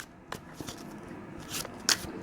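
Tarot cards being shuffled by hand in a few quick riffling bursts, close and fairly quiet, with soft papery flicks and a sharper snap near the end.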